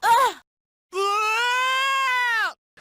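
In an audio drama, a character screams out in pain and collapses clutching her head, a long, loud, wavering cry lasting over a second after a shorter vocal burst.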